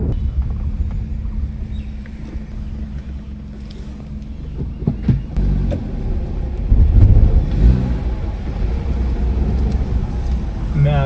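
A car driving along a quiet street and turning around, with a steady engine rumble, wind buffeting the microphone and a slight rise in revs partway through.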